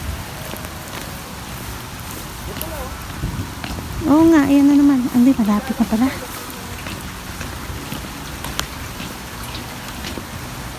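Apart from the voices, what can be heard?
heavy rain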